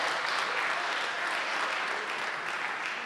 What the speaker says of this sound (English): like that applause, though